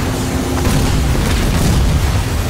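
A dense, booming EMP blast in the Halo Wars 2 video game, a loud continuous rumble with crackling noise that fills the whole stretch without letting up.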